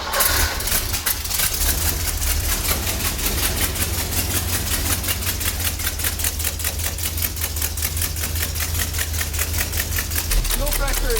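Jeep CJ-7 with a newly installed engine fires up and settles into a loud, steady, rapid idle, its chugging pulses filling the clip close to the microphone with no talking.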